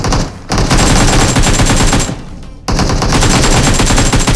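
Dense automatic gunfire during an attack in the BGMI battle royale game, with loud sustained bursts from weapons such as the AKM, broken by two brief pauses before the firing resumes at full intensity.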